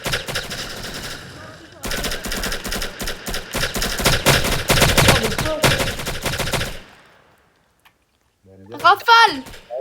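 Loud, sustained bursts of automatic gunfire from a French military roleplay video game, rattling in rapid volleys for several seconds, then dropping off with player voices talking over and after the shooting.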